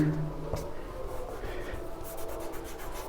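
Chalk or marker scratches steadily across a board while a maths problem is worked out, a soft, continuous rubbing with small strokes, low and close.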